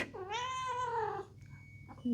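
A cat lets out one drawn-out, rising-then-falling meow that is fairly faint, followed by quiet room noise and a faint high tone.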